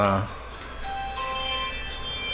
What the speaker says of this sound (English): Someone's making a delivery, and the Ring doorbell just goes nuts when they do that